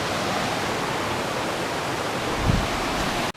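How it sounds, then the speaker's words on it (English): A small waterfall on Rock Run pours in a steady, close, broadband rush of falling water that stays even throughout, with no talking, before cutting off abruptly. "Nice little waterfall here."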